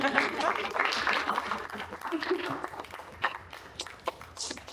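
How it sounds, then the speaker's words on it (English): Applause from an audience at a meet-and-greet, uneven clapping with scattered sharp claps and some shuffling, mixed with voices talking and fading somewhat over the clip. "Give her another round of applause."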